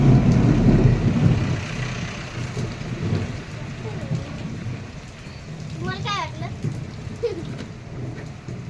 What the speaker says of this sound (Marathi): आता वीज चमकली, आता ढगांचा आवाज येणार आपल्याला